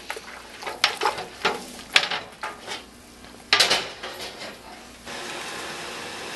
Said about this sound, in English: We're going to go ahead and move this back onto the burner